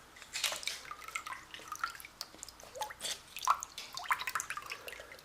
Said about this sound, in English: Just do the same thing, fill it with water, shake it, and empty out the water.